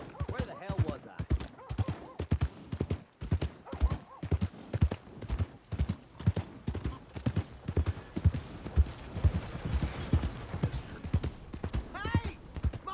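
Horse hooves clip-clop in the video game Red Dead Redemption 2 as a steady, rhythmic trot runs the whole time, fairly close, with some game voices and background sounds mixed in.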